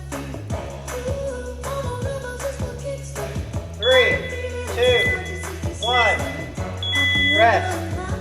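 A workout interval timer sounds repeated electronic beeps at regular intervals during an upper-body session, while music plays under it and an instructor talks throughout.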